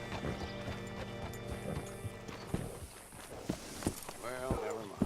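Horse hooves clip-clop in Red Dead Redemption 2, a steady walking rhythm of soft thuds that fades into a few scattered steps, with a whinny near the end over a constant music bed and some talk.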